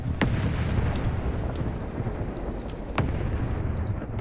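Tank being destroyed in the War Thunder video game, with two sharp explosive blasts about three seconds apart over a continuous loud low rumble of battle and engine noise.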